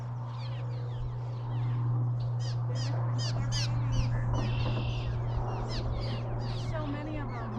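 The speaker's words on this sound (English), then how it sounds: "Little sparrows. Are they I think. sparrows or swallows? Or some type of finch even." Many small birds, sparrows, swallows or finches, chirp and call in rapid, overlapping bursts at an evening river, under people talking and a steady low hum.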